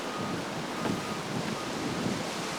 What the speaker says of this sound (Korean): 오늘 바람 징그럽게 부네